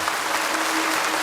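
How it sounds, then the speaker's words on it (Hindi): Audience clapping for Amitabh Bachchan at a studio event with tribal children in Bhubaneswar, a brief dense wash of applause, steady and fairly loud, with no voices heard. "big clapping for Amitabh Bachchan ji"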